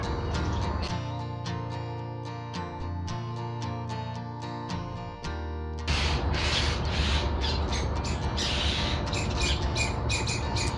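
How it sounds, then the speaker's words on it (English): Angry birds squawk repeatedly near a shelter, loud harsh calls in an irregular burst pattern that turns denser and more frantic halfway through, with no talking. "I think this bird is really angry that I'm in the shelter with him."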